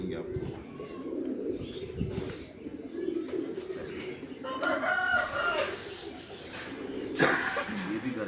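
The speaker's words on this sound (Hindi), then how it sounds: "काले जो चीनी कबूतर हैं" Old black Chinese pigeons coo in low, repeated bursts on a rooftop loft in Islamabad, with a rooster crowing nearby and people talking throughout.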